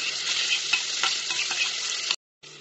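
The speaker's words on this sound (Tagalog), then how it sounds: "ikutin na natin yung onion" Onion sautés in a pan, a close, steady sizzle with soft scraping as it is stirred, cut off briefly near the end before resuming.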